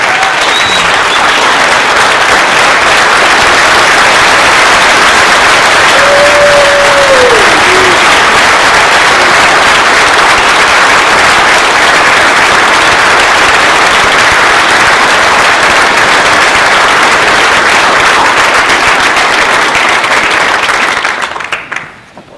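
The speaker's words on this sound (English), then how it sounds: "We ought to get on our feet and give them an excellent round of applause." Conference audience at an automotive dealer keynote dinner on its feet giving a long, loud round of applause, dense clapping that holds steady for about twenty seconds before fading out abruptly, with a brief whistle partway through.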